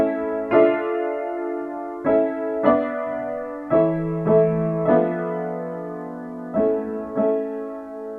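Choir singing where the women add higher harmony above the men's lower parts, a sequence of sustained chords each entering with a soft attack, rich and close.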